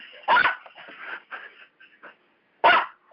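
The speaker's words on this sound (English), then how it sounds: "We have a barking dog, sorry" A dog barks nearby in two sharp, loud barks about two seconds apart, with softer whimpering yips and faint sounds between them during a phone call.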